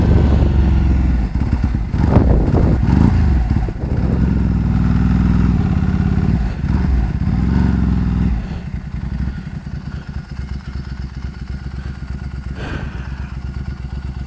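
A Ducati 749 motorcycle rides and turns around, its engine running loud and close with a steady low rumble that drops to a quieter idle-like burble partway through, with some clatter.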